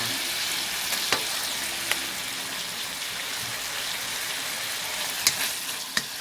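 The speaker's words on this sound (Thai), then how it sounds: "ใส่น้ำปลาค่ะน้ำปลา" Home-grown bean sprouts stir-frying in a pan with fish sauce added, a steady close sizzle throughout, punctuated by a few sharp spatula clicks against the pan, with no speech.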